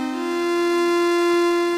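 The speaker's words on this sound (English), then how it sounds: "So we've got a square wave oscillator." A single square wave oscillator voice on a Yamaha CS70M synthesizer holds one steady, buzzy hollow tone for under two seconds, clear and alone.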